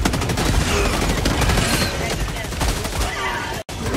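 Rapid automatic gunfire cutting down alien bugs in Helldivers 2, dense and loud bursts that pour out continuously before a brief drop-out near the end, with game sounds layered underneath.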